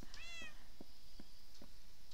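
A Minecraft cat gives one clear, close meow, followed by soft, faint repeated taps amid game background noise.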